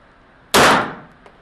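A single sharp shot from a Browning clone 9mm pistol at a range cracks out loudly and decays quickly, with a faint click following a moment later.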